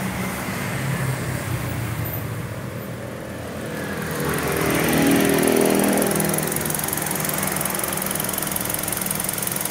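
Steady mechanical hum of a 2014 Kia Rio 1.4L engine idling with an HHO fuel saver fitted, a continuous drone that swells somewhat louder midway, with no talking.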